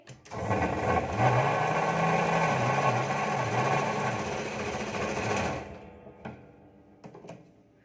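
A sewing machine runs steadily for about five seconds, stitching the lining of a katori blouse, a loud close motor whir with a wavering pitch that then stops, followed by a few faint clicks.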